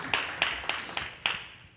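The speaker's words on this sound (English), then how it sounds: "Good round of applause." Audience applause at a tech conference session on Jamf infrastructure, heard as five sharp, separate claps spaced irregularly, faint and somewhat distant in a large room, with no voices.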